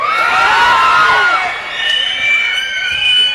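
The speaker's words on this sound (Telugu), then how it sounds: "మీ అరుపులకి రోమాలు ఎప్పుడు నిక్క ఒడుచుకుంటూ ఉంటాయి." An audience at a film hero launch event in Rayalaseema cheers and shouts loudly, a dense sustained roar of many voices with whoops rising and falling, close and continuous.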